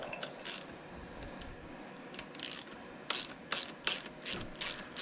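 A ratcheting tool clicks while unthreading a bike pedal for an ONYX pedal upgrade, with bursts of rapid ratchet-pawl clicks and short pauses between strokes, close and clear, with no talk.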